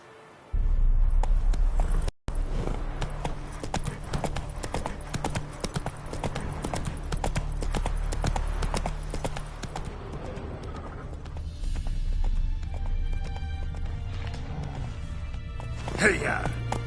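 Roach the horse galloping in The Witcher 3, a steady fast clip-clop of hooves running throughout, loud and close, with a voice speaking over it.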